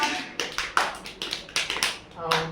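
Children clap their hands in a classroom activity, giving a string of uneven, fairly soft claps at a moderate distance, with voices mixed in.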